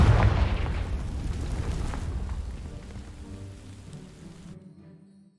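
A Confringo fire spell bursts against dry vines in Hogwarts Legacy, a loud crackling blast up front that fades into a steady roaring, rain-like hiss of burning before cutting off abruptly.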